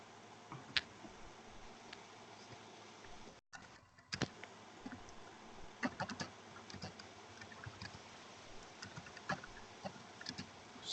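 Typing on a computer keyboard during a podcast recording, quiet scattered key clicks in irregular bursts with a brief pause partway, close and soft, no talking.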